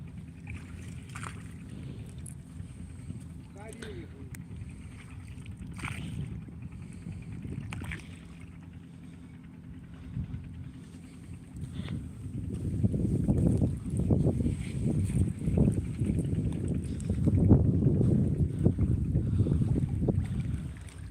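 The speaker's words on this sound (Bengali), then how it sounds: "বাতাসের জন্য নৌকা ঠেলতেছে বেশি" A wooden fishing boat drifts on the Madhumati River as wind pushes it, with soft water lapping and wind buffeting the microphone, growing louder and rougher in the second half.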